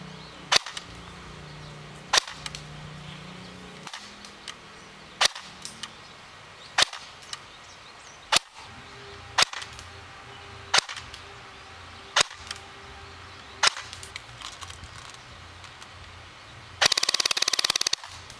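An ECHO1 Red Star AKM airsoft rifle fires single sharp shots through a chronograph, about a dozen evenly spaced cracks, then a brief full-auto burst at the end, with no talk.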